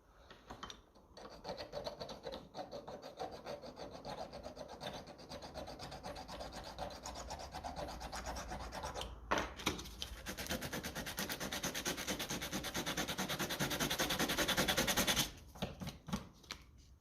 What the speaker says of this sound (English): Just file it a bit flatter, sand it a bit flatter.